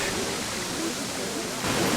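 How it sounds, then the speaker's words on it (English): A video game waterfall splashing at its base, a dense steady rushing wash of falling water that swells slightly louder near the end, with a voice faintly audible underneath. "we need the splash for the bottom of the waterfall"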